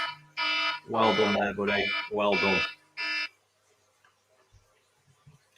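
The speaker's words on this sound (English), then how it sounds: "that is my alarm. And it's an horrendous thing to wake up to." A loud, harsh electronic alarm-clock tone blares in repeated bursts during a livestream, with a voice speaking over and between the pulses before it cuts off into near silence.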